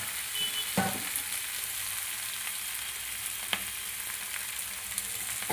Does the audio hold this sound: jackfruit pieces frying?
yes